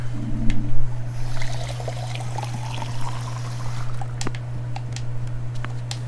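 Water pouring from a bathroom tap in the video game Fall of Porcupine, a soft steady trickle and splash over a low constant hum, fairly quiet throughout.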